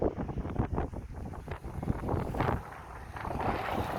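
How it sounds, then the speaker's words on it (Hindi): Strong mountain wind blows between Uttarakhand and Himachal, a loud, continuous rushing roar that buffets the microphone with gusty surges throughout, and no voice is audible. "बहुत तेज़ हवा चल रही है इस वक्त"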